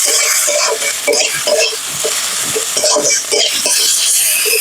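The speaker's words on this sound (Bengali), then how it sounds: "এবার আমি মশলাগুলো ভালো করে মিক্স করে নেব" Chili, cumin and coriander powders are stirred in a hot pan for a cauliflower and koi fish curry, with a steady loud sizzle and rhythmic scraping of the spatula close up.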